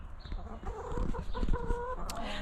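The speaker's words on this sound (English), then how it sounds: "I'm convinced that Blondie, one of my chickens here, she throws up a distraction whenever I open the gate." Several chickens cluck and murmur close by, with short rising calls and soft, broken clucks overlapping in a quiet outdoor setting.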